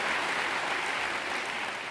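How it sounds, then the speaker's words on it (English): Audience applause at an awards show, a steady even wash of clapping from a crowd, moderately loud and continuous throughout. "Yeah, round of applause."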